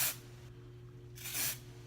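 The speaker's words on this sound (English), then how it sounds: "So we're just gonna spray your roots." Texturizing hair spray hisses onto the hair at the roots in two short bursts, one at the start and another near the end, with quiet pauses between them.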